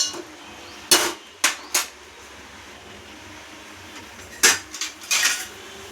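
A spoon stirs tomato and ivy gourd curry in a metal pan, giving sharp, close clanks in two quick clusters over a quiet hissing background.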